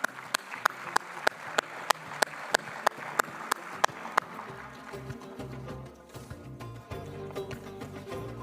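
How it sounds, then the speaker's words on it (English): A conference audience at a COP28 health session opens with sharp, evenly spaced claps, then settles into a broad roll of applause that fills the room. Voices are faint in the background. "Round of applause, please."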